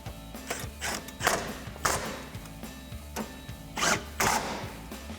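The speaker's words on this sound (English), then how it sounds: "now we'll take a 13mm socket to tighten down our bolts" A 13mm socket on a ratchet tightens the exhaust bolts of a C&L axle-back exhaust on a 2011-2014 Mustang GT. Repeated close clicking and ratcheting comes with intermittent taps and clunks, and no talk is heard.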